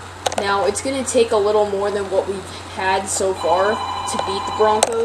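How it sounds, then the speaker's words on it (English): Telephone ringing indoors, a few bright, repeated electronic rings cutting through someone talking throughout, with a Madden 15 football game's commentary in the background. "Oops, sorry about that phone ring."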